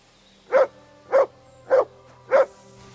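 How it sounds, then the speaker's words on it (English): Dog in Kingdom Come Deliverance 2 barking on command, four clear, evenly spaced barks roughly 0.6 seconds apart, close and loud against quiet game ambience. "Sit and bark."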